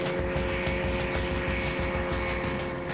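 A homemade propeller aircraft engine runs at full power during takeoff, giving a steady, loud, droning buzz with a constant pitch that carries on without a break.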